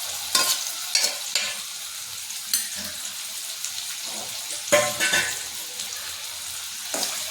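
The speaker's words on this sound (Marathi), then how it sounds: "छानपैकी परतवून घ्यायचं." Chili and garlic being sautéed in a pan for ambadi sukat bhat, with several distinct stirring scrapes over a soft, steady background sizzle.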